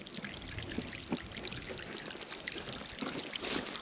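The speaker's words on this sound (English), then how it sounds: "Ready for some water?" Water poured from a bucket onto a newly planted walnut tree outdoors, a steady broadband splashing gush lasting throughout with a few brief surges.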